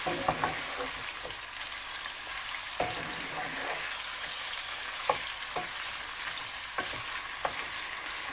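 Chicken pieces frying over high heat for chicken karahi, a steady close sizzle with scattered sharp pops and occasional stirring scrapes throughout, no talking.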